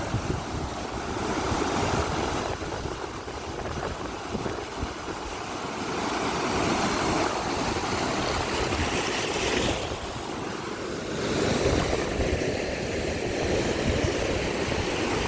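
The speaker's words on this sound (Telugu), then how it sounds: "చూడండి ఫ్రెండ్స్ ఎంత భారీగా ఈ వర్షం అయితే పడుతుందో" Heavy rain pours down while floodwater rushes over a road at Nagiripenta Vanka, a continuous loud wash of water and wind noise with swells and dips, no voices.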